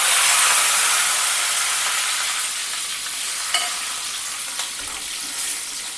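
Mustard seeds, cumin, a dried red chilli, garlic and curry leaves fry in hot oil for Hyderabadi phalli khatta: a loud, close sizzle that eases slightly after the first second, punctuated by a couple of light stirring clinks.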